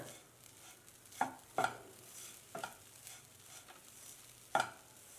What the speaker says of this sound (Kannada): ನಾನಿಲ್ಲಿ ಒಂದು ನಿಂಬೆ ರಸ ಹಾಕ್ತಾ ಇದ್ದೀನಿ ಮಿಕ್ಸ್ ಮಾಡ್ಕೊಳ್ಳೋಣ